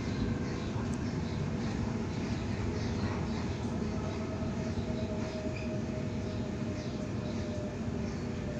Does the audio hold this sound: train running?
yes